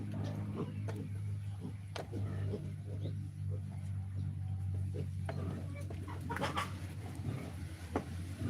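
Small backyard chickens, kept on a farm alongside piglets, cluck in short intermittent bursts at a moderate distance over a steady low outdoor hum, with scattered faint bird calls and occasional background voices.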